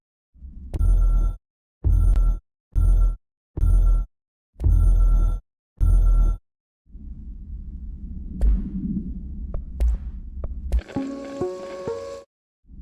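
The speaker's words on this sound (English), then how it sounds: "can hear the hotline ringing" A hotline telephone in the video game Control rings in six regular bursts with short gaps between them, followed by a low rumbling hiss and a brief electronic chime.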